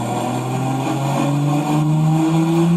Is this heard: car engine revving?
yes